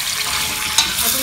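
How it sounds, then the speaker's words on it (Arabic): Chicken pieces fry in hot table oil in a pot for Moroccan rfissa, giving a loud, steady, close sizzle with a brief crackling pop partway through and no talking. "نخليو الزيت يسخن شوية، غنزيدو عليه الدجاج"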